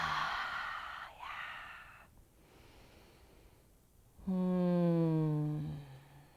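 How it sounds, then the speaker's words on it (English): Slow, deep belly breathing during a yoga session: soft drawn-out inhales and airy exhales, ending in a longer voiced, sighing exhale, close to the microphone with no words spoken. "3 lovely more big belly breaths here."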